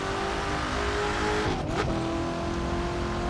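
Racing car engine in The Crew 2 driving game, played with a Fanatec CSL Elite wheel, holding a steady loud drone with a brief whooshing shift midway.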